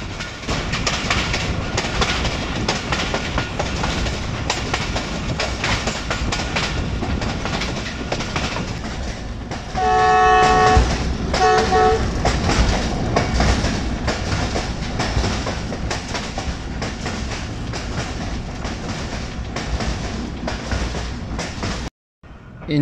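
A passenger train runs along the Lahore to Narowal branch line, its wheels keeping up a steady rumble with rhythmic clickety-clack over the rail joints and brief metallic squeals partway through, heard up close from on board.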